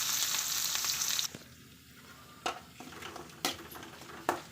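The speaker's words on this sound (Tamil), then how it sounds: "கருவேப்பிலை, வெங்காயம் நல்லா வதக்கி விட்டுக்குங்க" Onions and curry leaves sauté in a pan for a crab gravy, with mustard, cumin and fennel seeds already in the oil. A loud sizzle cuts off abruptly, then quiet frying continues with a few sharp clinks of stirring against the pan.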